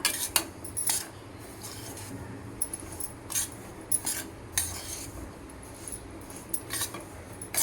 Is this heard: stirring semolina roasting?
yes